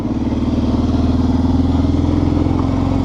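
Kawasaki Brute Force 650 ATV with a solid rear axle riding off-road over bumps at a park, its engine droning loud and close with a steady throbbing pulse throughout, no voices.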